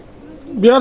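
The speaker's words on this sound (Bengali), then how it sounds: "ওমান ব্লাড লাইনের ডাইরেক্ট টেডি কবুতর" A teddy pigeon of Oman bloodline gives a single short, close coo that rises and falls, swelling in the final moments of a brief, otherwise quiet stretch.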